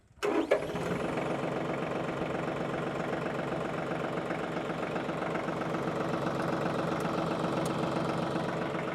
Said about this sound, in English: This thing just sounds like a diesel.